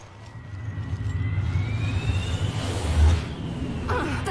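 An airplane engine roars in the Resident Evil Revelations video game, a steady low rumble with a whining tone gliding upward, swelling to a loud peak near the end before settling.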